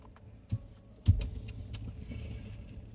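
Getting into a car: two sharp door or seat thumps close by, followed by a low interior rumble, with no talking.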